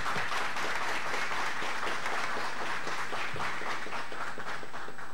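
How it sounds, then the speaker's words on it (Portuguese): A roomful of people clap in dense, sustained applause at a high-energy physics school gathering, honoring professor Beto Santoro, loud and steady throughout. "nós temos dar uma salva de palmas ao professor Beto Santoro"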